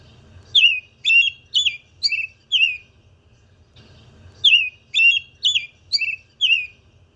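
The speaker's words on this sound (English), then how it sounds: "The sound of American robin is a familiar sound of spring" American robin singing: two bursts of clear, warbling caroled phrases, each a run of about five rising and falling whistled notes, separated by a short pause, loud and close over a low background hum.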